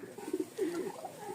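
Rajshahi colour-matched Giribaz pigeons give low, throaty coos, a couple of short rolling calls close by but quiet, with no voices over them.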